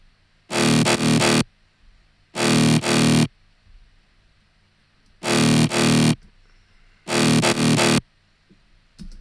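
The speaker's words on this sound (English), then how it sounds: "it's actually a sawy bass with a really lot of distortion in Serum" A heavily distorted saw bass synth made in Serum plays four loud, gritty, buzzing bursts. Each burst lasts about a second and a half and is separated by silence, with no voices.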